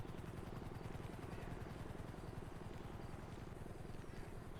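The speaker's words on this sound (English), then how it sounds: "There are a lot of helicopters over here." News helicopters flying overhead in the GTA V video game, a loud, steady rotor thump with a dense rhythmic chop that continues without a break.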